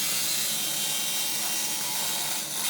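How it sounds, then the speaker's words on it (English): A jigsaw cuts out a mounting pad for a homemade dump truck seat, giving a loud, continuous buzzing rasp that holds steady throughout. "obviously this time I decided on a jigsaw, eh?"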